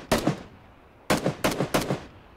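Gunfire in the video game Battlegrounds: a single sharp shot, then after a pause three more in quick succession, each crack followed by a short echoing tail.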